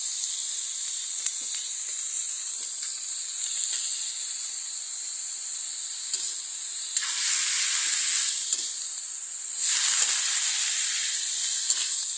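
Fish frying in a pan for a home-cooked dish with eggplant, a loud continuous sizzle and hiss that swells louder in bursts, with no talking.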